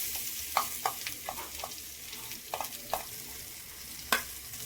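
Ground pea paste goes into an oiled wok and sizzles steadily, with scattered clicks and scrapes of stirring over a constant hiss, close and without talking.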